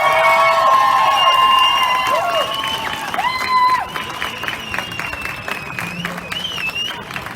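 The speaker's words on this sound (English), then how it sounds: "One big round of applause for that." At a Vancouver rally of Afghan residents protesting the Taliban's return, a crowd applauds and cheers after a speech, loud at first with shouted voices, then tapering off.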